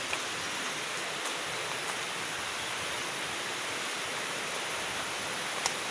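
Continuous rushing of a mountain river, a steady broadband hiss heard from some distance, with no voices over it.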